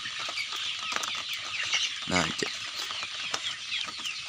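Farmyard chickens cluck and squawk nearby in a coop during the rainy season, with one loud rapid clucking burst midway; a voice briefly speaks.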